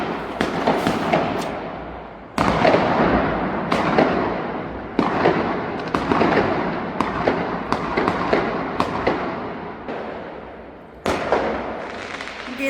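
Firecrackers burst outside in Kharghar, a steady string of sharp bangs and crackling pops that repeats for over twelve seconds, loud and fairly close with no talk.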